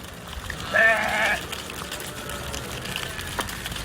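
One short, wavering bleat from a person imitating a sheep in Tunisia, standing out clearly for about half a second over low outdoor background noise.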